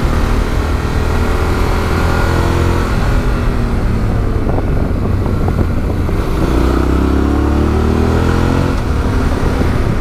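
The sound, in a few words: Yamaha Ténéré 700 motorcycle riding in third gear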